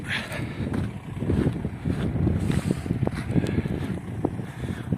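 Strong wind roaring across a park on the Galician coast in northern Spain, a loud, steady buffeting rush that batters the microphone throughout, with no talking.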